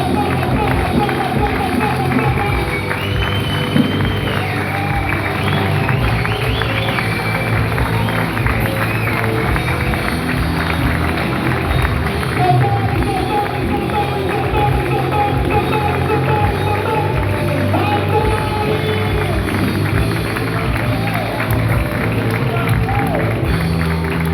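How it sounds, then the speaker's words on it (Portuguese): A worship congregation claps along continuously amid sustained praise music and a voice, a thick, even wash of hands and crowd noise lasting the whole stretch without a break. "Aplauda."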